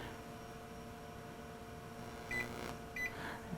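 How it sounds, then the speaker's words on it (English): Two short electronic beeps from a Model 16 computer powering up sound over a steady fan hum, spaced less than a second apart, moderately loud against the droning machine noise. "Should get the beeps"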